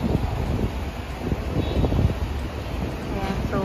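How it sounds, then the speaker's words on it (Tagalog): Strong wind from a typhoon rushes across a street in Taiwan, a loud, continuous roar buffeting the microphone with gusty swells throughout. "sobrang hangin kasi may bagyo"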